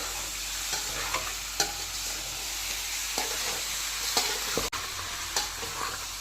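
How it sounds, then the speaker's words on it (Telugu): Chicken pieces with salt and turmeric are stir-fried dry in a pan for pickle, with a constant hiss of sizzling and sharp spatula scrapes at irregular intervals, close up with no voices. "చికెన్ తేమ లేకుండా మొత్తం ఇలా ఫ్రై చేసుకోవాలి"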